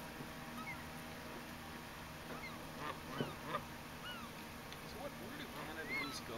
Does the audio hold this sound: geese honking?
yes